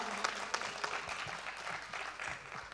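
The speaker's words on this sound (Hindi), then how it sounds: "एक बार पूरा सदन जोरदार तालियों से ओम जी का हौसला अफजाई करे।" Applause from the audience at a ghazal poetry gathering (kavi sammelan) in Ahmedabad, a dense wash of clapping that runs steadily through the clip at moderate level, with scattered louder claps.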